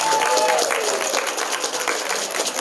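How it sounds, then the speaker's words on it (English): Applause from a wedding show audience for the vendors: dense, steady clapping from a sizeable crowd, close and loud throughout, with no voices standing out. "Let's also give the vendors here today a big round of applause for being here today"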